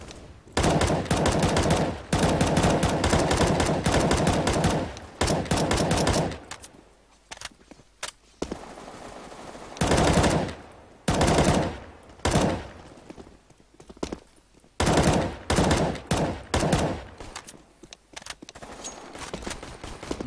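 Game gunfire in Counter-Strike: Global Offensive, with dense bursts of rapid automatic shots and single cracks that run almost continuously for long stretches, broken by short pauses and a few isolated shots.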